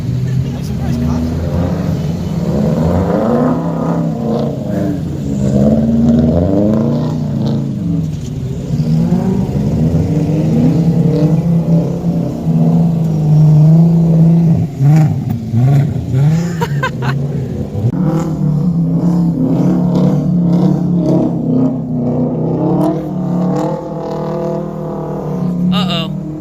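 A 2015 Subaru WRX engine revs and surges while drifting in snow, loud and close, with pitch sweeping up and down through gear changes and voices talking over it.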